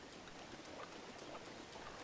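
Soft, steady rainfall patters in The Legend of Zelda: Breath of the Wild, a faint, even hiss of drops with no other sounds over it.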